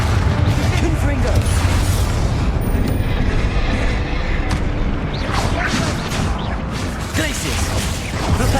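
Confringo blasting spells go off in Hogwarts Legacy as a rapid barrage of loud, heavy explosions and booms, packed close together and rumbling continuously under a spoken voice.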